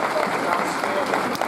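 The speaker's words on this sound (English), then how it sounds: "Big round of applause if you do." A school audience applauds in a continuous, moderately loud burst of clapping, with some voices mixed in underneath.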